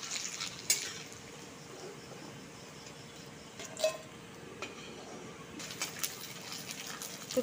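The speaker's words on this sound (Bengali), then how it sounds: "খুব তাড়াতাড়ি ভাজা হয়ে যায় এগুলো" Rice flour papad fries in a little oil with a faint, steady crackle, broken by a few light clicks of utensils and distant bird calls in the background.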